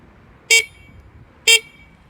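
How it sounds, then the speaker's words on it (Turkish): Two short, sharp electronic horn beeps from an Onvo OV-011 electric scooter sound about a second apart, loud and close, over a quiet background. "Görüldüğü üzere kornamız bu şekilde."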